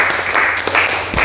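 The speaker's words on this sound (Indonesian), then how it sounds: "Oke, kita berikan tepuk tangan" A class of students in an Islamic religious education lesson claps together, brief, loud and close, lasting about a second.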